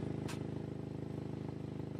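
A car engine idles steadily with a low, even throbbing hum throughout, plus one brief sharp click near the start.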